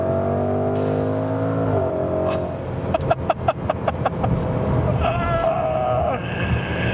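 A 2020 Range Rover Velar SVAutobiography engine pulls hard under full throttle with a throaty rising roar, rapid gear-shift pulses in the middle, then a sustained climbing drone, heard from inside the cabin.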